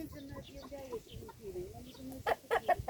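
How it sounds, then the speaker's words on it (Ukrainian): Hen clucking in short, sharp bursts near the end as it attacks a rooster, with softer bird calls and some background voices beforehand. "курка нападає на нього"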